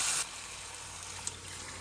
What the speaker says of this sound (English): In goes the beans, and then I'll add some extra water on top.